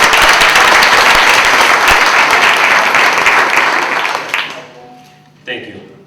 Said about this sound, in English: And a warm applause for both Gus and Litsa for doing a phenomena